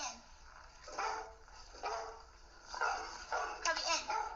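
Dogs bark in a yard at night, several sharp bursts in irregular runs, fairly close and loud, with some whimpering between them and people talking under the barks.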